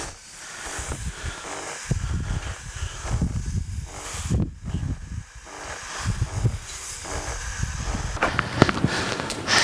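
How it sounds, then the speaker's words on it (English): A cart-mounted sprayer lightly applies exterior concrete stain over a driveway, giving a steady, close airy hiss with rustling texture that swells and fades across several passes, growing louder near the end. "This is a really nice sprayer because it comes on a cart."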